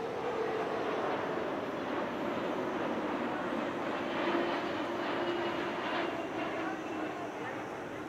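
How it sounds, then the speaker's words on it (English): A Boeing 777X passenger jet flies at the Dubai Airshow 2023, its engines a loud, steady broadband roar that holds evenly for the whole stretch, with a slight swell near the middle. "the 777X is the largest passenger aircraft currently on the market"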